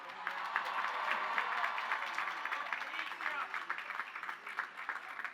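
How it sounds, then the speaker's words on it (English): A graduation audience at a college ceremony claps steadily in a dense, sustained round of applause that is fairly faint and distant, tapering slightly toward the end. "Let's give another thank you to Senator Schumer"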